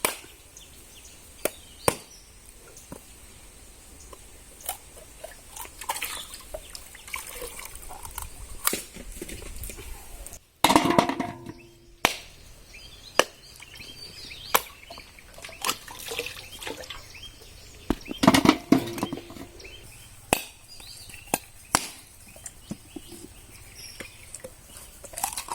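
Coconuts being cracked open one at a time, sharp isolated chopping knocks spaced irregularly over a quiet background, with a brief burst of splashing water in the middle and later.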